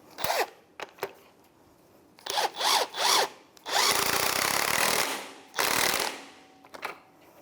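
A power tool tightens the front shock absorber strut assembly of a 2002-2005 Ford Explorer: several short whirring bursts, then longer runs and a final burst, with quiet gaps between them, close by.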